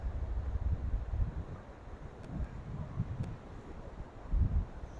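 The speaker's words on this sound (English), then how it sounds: "Same amount of noise, wind still blowing, rivers rushing." Wind gusts buffet outdoors beside a rushing river, a steady broadband wash of water noise with rumbling low surges that swell and fade, no voices present.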